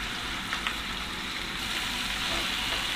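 Spices are mixed and fried in a pan, giving a steady, close hiss and sizzle that carries on without a break throughout.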